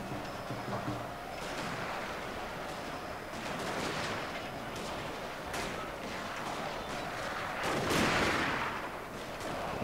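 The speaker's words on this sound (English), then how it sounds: "Turn these guys on fire at will now, and hopefully they'll start gunning these guys down." Line infantry in the Total War: Shogun 2 Fall of the Samurai game fire at will. A dense, continuous crackle of rifle volleys rolls over a rumbling battlefield bed, swelling louder near the end.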